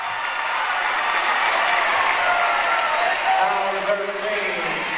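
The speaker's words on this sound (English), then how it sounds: "See the crowd go wild." Crowd at a high school basketball game between CHS Spartans and Lawrenceburg cheers and applauds in a steady, loud roar that holds throughout, with some voices rising toward the end.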